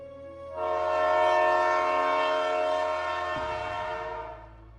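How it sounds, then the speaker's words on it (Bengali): A train pulls slowly out of a station, a sustained horn blaring loud and steady for several seconds over a low rumble of the engine, which shifts in pitch near the end as the horn fades. "ট্রেন ধীরে ধীরে ছেড়ে যায় স্টেশন।"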